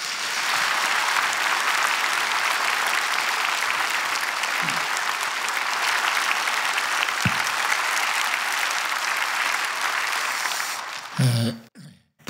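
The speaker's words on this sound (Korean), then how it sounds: "우리 박수로 모시겠습니다" An audience in a church at a dedication and ordination service gives sustained applause to welcome a former justice minister to the podium, dense and even for about eleven seconds, with a throat clear near the end as the clapping stops.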